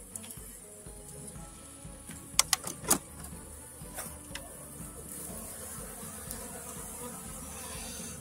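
Bees buzz around beehives where colonies fight and raid a dead hive, a steady faint drone with a few sharp clicks and knocks, heard from close by.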